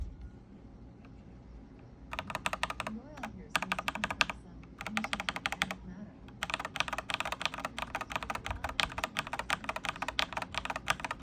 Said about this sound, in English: So a little sound profile or a little sound test for you.